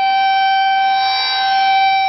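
A loud civil defense tornado warning siren in Louisville, Kentucky wails steadily at a high, sustained pitch, a continuous tonal blare with no voices.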